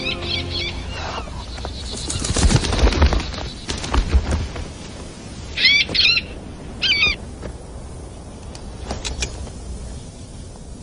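A bird gives several short, high, chirping calls in bursts over a steady background of noise, along with some low thuds and movement.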